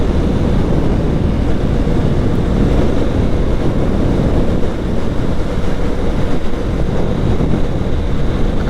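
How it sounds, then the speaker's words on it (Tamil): Strong dusty wind in Qatar roars continuously into a microphone during a motorbike ride, a dense, steady rumble and buffeting that stays loud from start to finish, with no voices. "காற்று அடித்தா அப்படியே மண்ணெல்லாம் அள்ளிட்டு போவோங்க."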